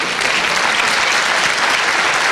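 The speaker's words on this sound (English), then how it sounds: "Let's keep clapping until he gets to his seat" An audience at a business forum breakfast and expo claps in a steady, dense wash of applause that holds evenly throughout, loud and close.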